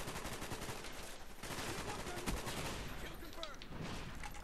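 AK-47 gunfire in Call of Duty: Black Ops, rapid automatic shots in a dense, continuous burst, mixed with in-game noise.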